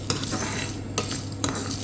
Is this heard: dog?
no